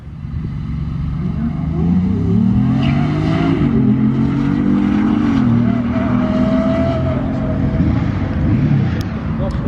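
Bugatti Chiron hypercar driven hard on an airfield, a loud sustained engine roar with rising and falling pitch as it accelerates, steady and close throughout.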